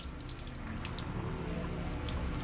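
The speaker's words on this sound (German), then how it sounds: "Jeder hier muss erst einmal duschen." Shower water runs steadily in a clean underground laboratory, a constant close hiss of spray with no breaks.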